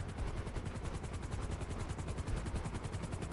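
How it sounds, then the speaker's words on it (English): A helicopter's rotor beats in GTA Online in a fast, steady rhythmic thudding, a constant low chopping drone that stays even and fairly faint. "you need to just listen for the helicopter noise"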